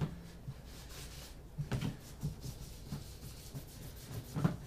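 A Ludwig Acrolite snare drum's slightly rusted metal rims being rubbed clean with Pledge cleaner: soft, close scrubbing strokes with a few brief louder swipes, quiet and without talk.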